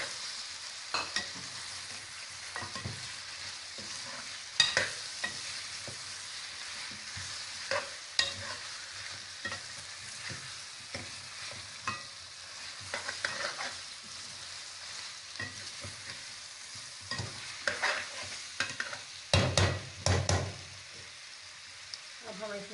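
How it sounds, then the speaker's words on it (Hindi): Tomatoes fry in a pan of desi chicken karahi, with steady sizzling broken by frequent scraping stirs and a few louder clatters of the spoon against the pan. "इसमें डालेंगे टमाटर"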